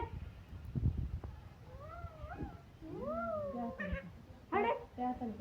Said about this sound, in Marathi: बरोबर म्याव म्याव कर.